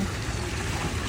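Water from a park waterfall rushes in a dense, steady broadband roar, close and loud with no pauses, no talking over it.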